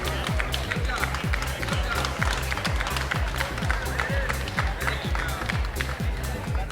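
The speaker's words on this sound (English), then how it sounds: "You can hear the audience cheering them on, rooting for all of these kids doing an absolutely amazing job." Spectators at a middle school drone championship clap and cheer in a steady, dense patter, with voices and shouts mixed in throughout.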